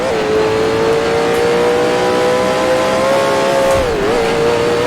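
A 1966 Can-Am race car engine in Grand Prix Legends, shown at Mont Tremblant. It holds a loud, steady high-pitched drone with a brief dip and recovery near the end, as on a lift and reapplication of throttle.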